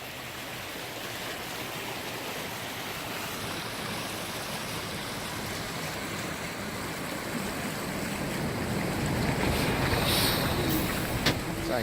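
Fast-flowing river water runs beneath a bridge in the Peak District after heavy snow, giving a steady, loud, broadband rush that holds constant throughout and grows slightly stronger near the end.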